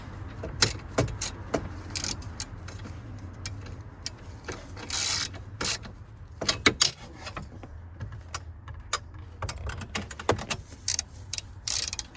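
Ratchet with a 10mm socket on a long extension tightening the bolts on a Chevy Silverado steering wheel position angle sensor, giving repeated quick clicking bursts with metallic clinks and handling noise, close up.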